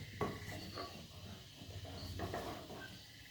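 A spoon scrapes and stirs through thick ragi porridge in a pot, with soft irregular clinks and a quiet bubbling hiss in the background.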